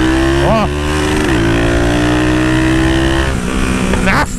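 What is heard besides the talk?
motorcycle with 330cc engine accelerating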